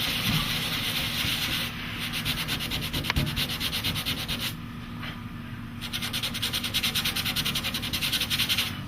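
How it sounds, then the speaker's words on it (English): Sanding a surfboard ding repair area, steady close rasping rub with a brief pause partway through before the back-and-forth scraping resumes. "So we sand off the basic area that we're trying to repair"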